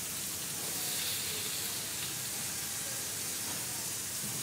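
Beef fillet steak sears slowly in a hot pan on the stovetop, giving a steady, close hiss and sizzle that holds level throughout with no talk over it.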